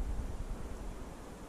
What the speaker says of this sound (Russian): Ветреная сегодня погода, боюсь далеко летать.